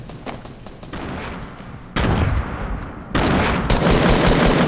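Rapid gunfire in a Fortnite match, dense bursts of shots that grow louder and more intense in two steps, sustained close automatic fire with no talking.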